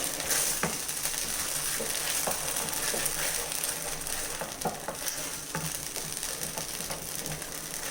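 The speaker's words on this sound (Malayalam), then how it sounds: "അതിട്ടിട്ട് ഇളക്കി മിക്സ് ചെയ്യാം നമുക്ക്." A spoon stirring banana payasam (pazham pradhaman) mixture in a pan, steady scraping and clicking strokes with a soft background sizzle, close and moderately quiet.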